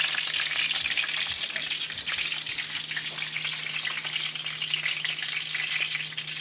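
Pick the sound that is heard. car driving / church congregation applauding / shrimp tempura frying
shrimp tempura frying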